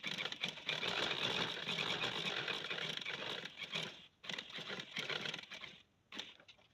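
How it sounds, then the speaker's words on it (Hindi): A sewing machine stitching a collar band on fabric, running steadily and fast for about four seconds, pausing briefly, then resuming in shorter bursts; close and continuous with no talk. "अब मैं इधर सिलाई लगाती हूँ।"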